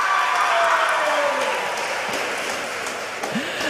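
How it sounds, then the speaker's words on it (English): Crowd applause for graduates at a school graduation ceremony, a dense, continuous patter of many hands that slowly eases in intensity, with faint murmuring underneath. "A round of applause for grades 6-1 to 6-4, first position in class."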